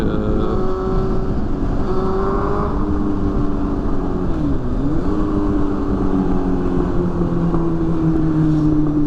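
A 2001 Yamaha FZS 600 set up as a cafe racer runs under load, its engine note loud and close, climbing gently, dipping briefly, then holding a steady drone with no speech over it.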